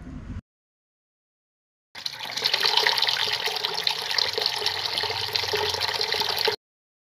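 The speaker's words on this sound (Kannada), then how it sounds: "ಓಕೆನಾ, ಈಗ ಅದನ್ನು ನೀಟಾಗಿ ವಾಶ್ ಮಾಡಬೇಕು." Food being washed for homemade dog food under a running kitchen tap, a steady splashing water stream that starts after a short pause and runs continuously for several seconds, close and fairly loud, with no talking.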